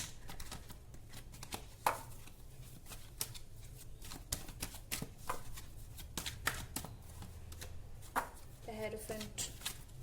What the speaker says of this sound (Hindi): कार्ड्स गिर रहे हैं अपने आप, मैं कुछ नहीं निकाल रही हूँ